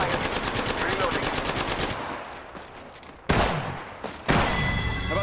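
Automatic rifle fire rattles in a video game firefight in rapid, continuous bursts, loud and close, breaking off and then resuming in sharp bursts.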